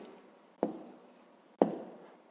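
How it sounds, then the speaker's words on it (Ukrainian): Pen writing a maths answer on paper, soft scratching strokes with two sharper taps about a second apart, close and quiet with no voice. "зараз записуємо відповідь"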